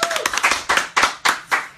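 A few sharp, spaced hand claps ring out close by, roughly six distinct slaps in under two seconds, as a small audience welcomes a guest.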